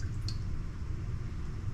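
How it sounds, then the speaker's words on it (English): Red wine pours into a crock pot in a home kitchen, a close, steady liquid gurgle and splash running continuously without speech. "I'm just gonna pour a cup of red wine."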